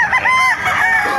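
A henny-feathered rooster crows at a Bocaue market, a loud, close, drawn-out call with a warbling, wavering tone that fills the whole short stretch.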